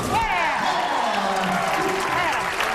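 A bowling alley crowd at the 2009 Don and Paula Carter Mixed Doubles Championship applauds and cheers for Norm Duke, a steady roar of clapping and voices under a commentator's talk.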